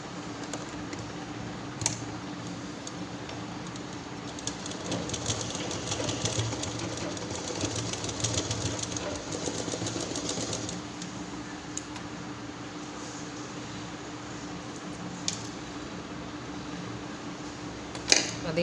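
Sewing machine stitching a school pencil pouch, a quiet continuous mechanical whir running throughout at a fairly steady pace, with a few faint clicks.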